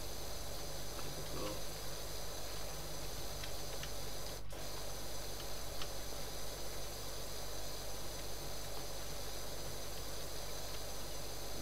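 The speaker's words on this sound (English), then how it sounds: "The yellow power washer, of course." Power washer spraying a dirty roof in Power Wash Simulator with the yellow nozzle, a steady close hiss running the whole time with one brief sharp burst partway through.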